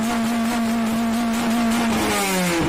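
A manual stick-shift car engine runs with a steady drone and then revs, its pitch sliding as the engine changes speed, loud and close.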